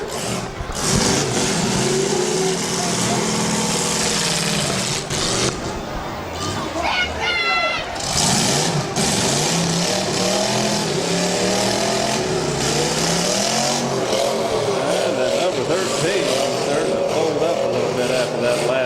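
At a county fair demolition derby, battered car engines roar and rev continuously under a loud announcer and crowd noise, with engine pitch rising and falling throughout.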